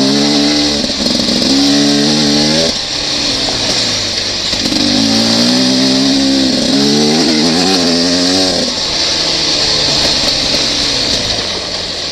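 Beta 300RR two-stroke dirt bike running in fourth gear, a loud close engine with rising and falling revs as the throttle is rolled on and off, steady roar throughout with no talk.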